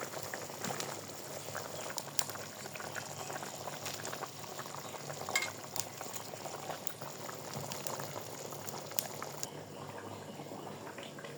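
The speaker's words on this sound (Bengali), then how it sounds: "ঝোলটা ফুটে এসেছে, মাছগুলো দিয়ে দিব।" Fish curry gravy simmers at a rolling boil in a pot, giving a continuous soft bubbling and fizzing with small pops, close by but quiet, with no voices over it.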